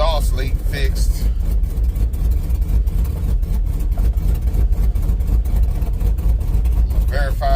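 An OBS truck with an LS swap idles with a deep, steady rumble after an exhaust leak was fixed, loud and close, with a person talking over it.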